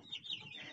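A young chick in a brooder gives a couple of faint, brief, high chirps against quiet background noise.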